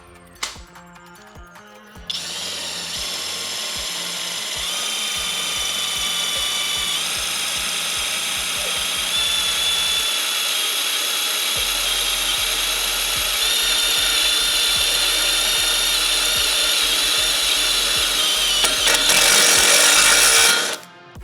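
A power drill with a nut setter bit drives screws in a long continuous whir, its whining motor pitch climbing steadily with ratcheting mechanical clicks, loud and close, ending as the screw seats and the drill stops.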